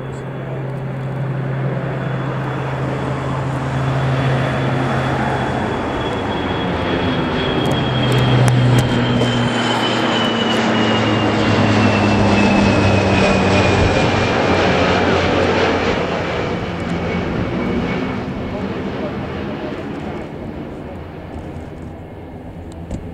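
A USAF MC-130 Hercules propeller aircraft flies over RAF Mildenhall, a loud, steady engine drone with a falling whine that swells and fades over about twenty seconds, with faint voices beneath.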